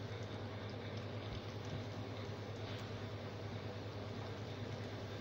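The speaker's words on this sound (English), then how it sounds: "I'm using palm oil today to fry the akara." Akara bean fritters frying in hot palm oil, a steady faint bubbling sizzle running continuously without pause.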